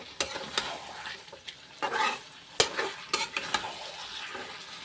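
Mutton being sautéed in a pan, with repeated sharp spoon scrapes and knocks in an irregular rhythm over a soft, continuous sizzle.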